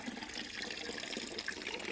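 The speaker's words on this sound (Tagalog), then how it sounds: "Malapit na pong mapuno yung timbako." Water running from a bamboo pipe into a bucket fills the scene with a steady, close splashing and trickling stream, unbroken throughout with no voices.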